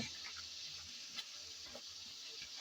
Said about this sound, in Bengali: মটরশুঁটি দিয়ে নেড়ে চেড়ে ভালোভাবে একটু কষিয়ে নিলাম